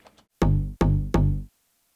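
Three dry, punchy synth shots from a Drezzo sample pack, played without effects, each with a bright attack and short body, separated by brief gaps, alone with no voices.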